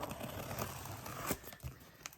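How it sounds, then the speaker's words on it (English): Scissors crisply snip and tear open plastic packaging from an online order, with a sharp cut near the middle and crinkling around it, close and moderately quiet. "just have to grab a pair of scissors here."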